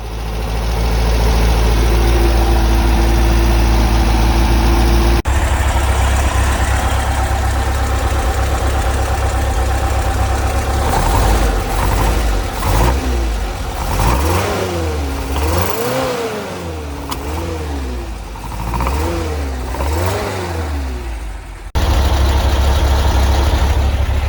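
A Porsche 914 engine fitted with MegaSquirt EFI and dual throttle bodies idles loudly, then revs up and down repeatedly in rising and falling sweeps before settling back to a steady idle.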